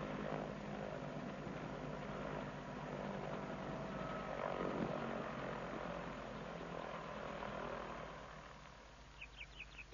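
A helicopter hovers low and settles to the ground during a landing, a steady loud rotor and engine roar throughout that eases slightly near the end, with faint bird chirps at the close.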